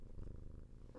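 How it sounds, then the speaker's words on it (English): A cat purring up close, a low, steady rumbling purr that pulses rhythmically and fairly loudly throughout, with nothing else heard over it. "Talking to my cat, he's giving me a stare down right now"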